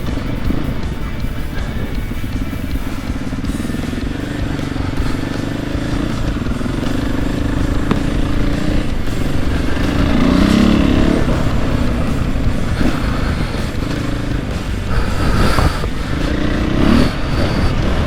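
A Husqvarna 501 FE dirt bike rides a motocross track in Oregon, its engine droning loudly and continuously with rises and dips in pitch as the rider works through corners.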